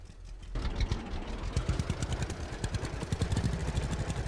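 Old tractor engine in the farming game Farmer's Dynasty, a steady rattling, clattery idle with rapid rhythmic pulses, loud and close after a brief quieter start, with no talking.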